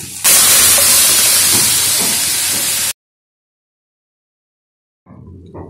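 Boiled moong dal with bottle gourd is tipped into a hot tempering in the pan and lets out a loud, close hiss and sizzle. It lasts about three seconds, then cuts to silence, and a faint sizzle returns near the end.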